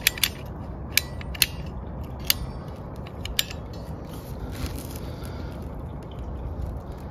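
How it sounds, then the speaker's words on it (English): PVC cutters snip through PEX pipe during a whole-house attic repipe, giving a few sharp ratcheting clicks and snaps early on over a steady room hiss, then quieter background. "we're just going to use our PVC cutters here and get a nice square cut"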